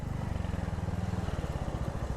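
Motorcycle engine on a mountain road during an off-road trip near Delhi, a steady throbbing drone with rapid pulsing exhaust beats, close and continuous for the whole stretch.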